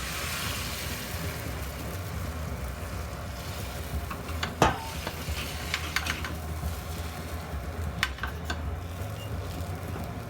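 Beaten egg for a Japanese omelette sizzles in an oiled pan, a steady close crackling hiss throughout, broken by a few light clicks and taps of utensils.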